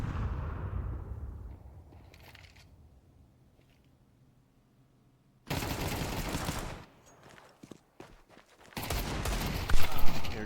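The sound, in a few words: Desert Eagle pistol gunfire in Counter-Strike video game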